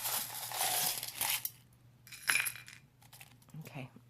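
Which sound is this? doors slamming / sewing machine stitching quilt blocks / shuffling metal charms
shuffling metal charms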